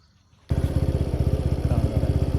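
A motorcycle engine catches and starts abruptly after a moment of near silence, then runs with a loud, rapid, chugging idle close by.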